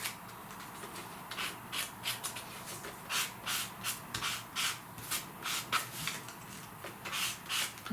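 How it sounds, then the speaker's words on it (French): A small sanding block rubs over scrapbook paper for a large-format birthday album page, making repeated brisk back-and-forth scratching strokes in a steady rhythm, fairly close and alone. "je vais passer le petit bloc à poncer."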